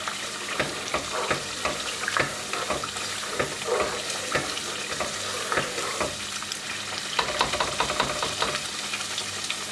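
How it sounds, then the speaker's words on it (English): Coarsely blended pepper fries in hot oil for a Nigerian fried fish stew, a dense, steady sizzle with frequent crackles and light stirring scrapes throughout, close and without talk. "so I'm going to allow it to fry now."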